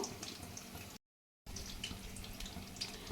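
Water poured from a tap while making a sauce for dry chilli chicken, a steady close splashing stream that breaks off briefly and then resumes, with no talk.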